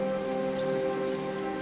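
Heavy rain pours steadily on a bonsai garden with a dense, constant hiss, loud and unbroken throughout.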